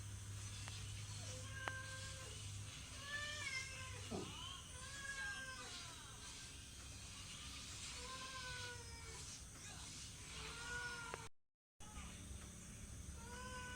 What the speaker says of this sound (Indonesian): Kucingnya diparingi, Bek.